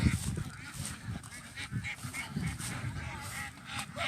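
A dense flock of ducks on a duck farm in Isan, Thailand, calls nonstop at close range, loud overlapping honking quacks layered into a continuous din with no talking.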